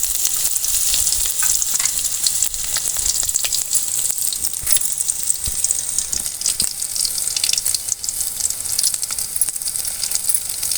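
Fenugreek seeds, dried red chillies and small shallots fry in hot oil for a mudakathan keerai rasam, making a loud, dense crackling sizzle with frequent sharp pops and spatters that never lets up.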